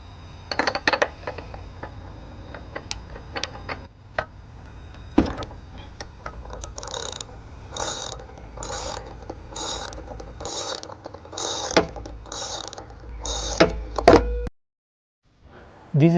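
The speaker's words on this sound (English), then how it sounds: "you need a spark plug socket attached to the ratchet" A ratchet fitted with a spark plug socket works a lawnmower spark plug loose, giving repeated close clicking and metallic ratcheting bursts in a steady rhythm, with scattered handling clatter and no talk.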